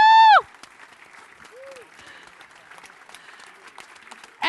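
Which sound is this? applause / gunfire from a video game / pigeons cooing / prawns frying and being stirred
applause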